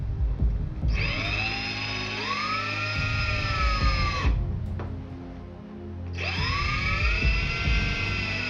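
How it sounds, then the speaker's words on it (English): A Dremel rotary tool drills pilot holes into an MDF lure-dryer build: a high, steady whine heard in two long runs with a pitch sag as the bit bites, separated by a brief pause. "With a Dremel I drill a pilot holes again."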